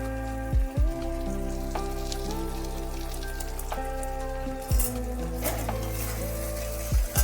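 Flat beans and small mourola fish fry in a pan as spice is stirred in, a soft steady sizzle with occasional scraping clinks of the spatula, near and without talk.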